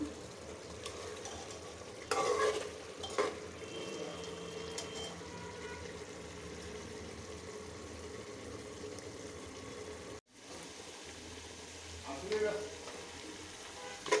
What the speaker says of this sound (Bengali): এখন খুব ভালো করে কষাবো